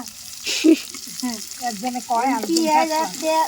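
Green chillies hit hot oil for a village dish and fry with a soft sizzle beneath a man's close, continuous talking, with a brief louder burst near the start.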